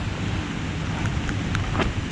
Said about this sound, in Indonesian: Suara hujan kedengeran banget dari lereng sana.